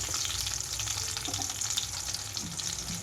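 Garlic cloves and curry leaves frying in a pan, a steady close sizzle with faint crackles running throughout, no voices.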